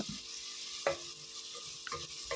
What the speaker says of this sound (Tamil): புளிஞ்சு விட்டு நல்லா மிக்ஸ் பண்ணிக்கோங்க